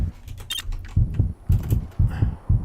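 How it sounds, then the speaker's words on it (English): Heartbeat effect in the Just Cause video game, signalling low health: steady paired thumps repeating about every half second, loud and low, with faint in-game noise above. "Sorry about the heart beating noise."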